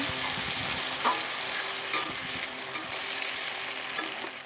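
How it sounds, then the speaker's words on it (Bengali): Chopped tomato and green chilli go into a pan with pointed gourd and prawns, frying with a busy close sizzle, several scraping stirs of the spatula and a low background hum. "এবার আমি দিয়ে দেবো কেটে রাখা টমেটো আর কাঁচা লঙ্কাটা। ভালো করে আরেকটু ভেজে নেব।"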